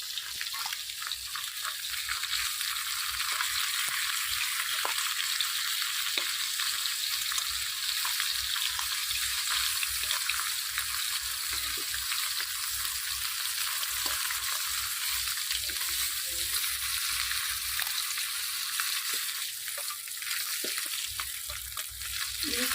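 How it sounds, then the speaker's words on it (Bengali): Chandani fish frying lightly in oil, giving a loud, steady sizzle with a bright crackle that runs without a break from start to finish. No voices are heard. "ওইভাবেই ইলিশ মাছটা মতনই আমরা চন্দনী মাছটা হালকা ভেজে নিলাম"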